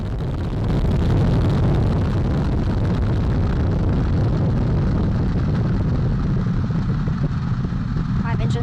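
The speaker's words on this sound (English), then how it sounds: "Core stage engine start. 3, 2, 1. Boosters in ignition. And liftoff of Artemis 1." The Artemis I SLS rocket lifts off, its core stage engines and two solid rocket boosters producing a continuous loud, rumbling roar that holds steady throughout, with a commentator's voice under it.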